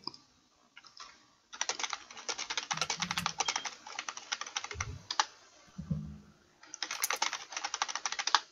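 Rapid tapping on a computer keyboard, bursts of dense clicks broken by short pauses, close and fairly loud, with a few low bumps between the runs and no voices.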